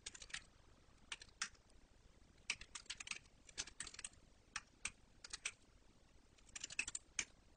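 Bursts of typing on a computer keyboard while writing code, quick light clicks in uneven clusters with short pauses between, close and fairly quiet in a still room.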